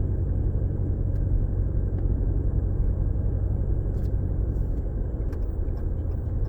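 2019 Ram 1500 with a 5.7 HEMI V8 and Solo MR 300 muffler delete cruising at about 40 mph after switching to 4-cylinder mode, a steady, deep, droning exhaust rumble heard from inside the cab without speech.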